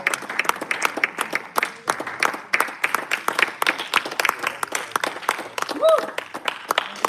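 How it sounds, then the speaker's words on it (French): A congregation at an evening church service claps in a steady burst of applause that carries through the whole stretch, with a voice speaking over it near the end. "Acclame."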